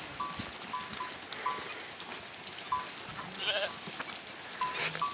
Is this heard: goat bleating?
yes